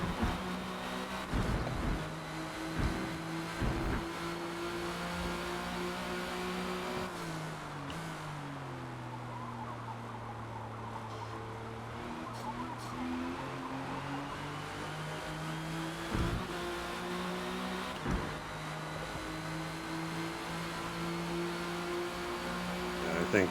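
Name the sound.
Porsche GT1 race car engine shifting gears, Forza Motorsport video game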